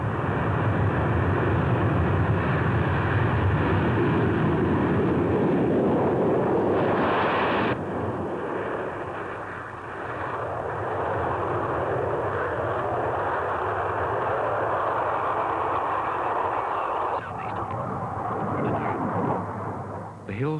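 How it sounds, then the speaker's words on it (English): A SEPECAT Jaguar strike jet of the RAF rolls down the runway at speed under opened throttle, a loud, continuous, broadband engine roar that shifts in tone partway through and holds steady to the end. "Opening the throttle on the runway and rolling down the runway at speed"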